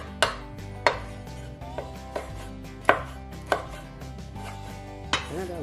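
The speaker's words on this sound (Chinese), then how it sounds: "剩余的辣椒呢，我们去籽，我们切成丝" A knife chops deseeded chili peppers into strips on a cutting board in a home kitchen, giving about eight distinct, uneven thuds close up, with a light ringing tail and no talking.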